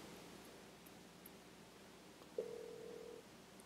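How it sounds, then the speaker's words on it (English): Telephone ringback on an outgoing call placed through turboDial calling software: one faint, steady tone lasting under a second, surrounded by low background hiss. "Phone's ringing."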